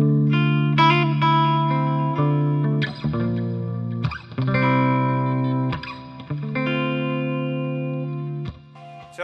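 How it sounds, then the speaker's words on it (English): Electric guitar played through a Fender Twin amp with a simple digital delay in the effects loop plus reverb: sustained chords and ringing notes with echo tails, loud and alone. "Now a little delay and a little reverb."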